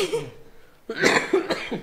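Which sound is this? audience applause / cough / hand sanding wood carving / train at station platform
cough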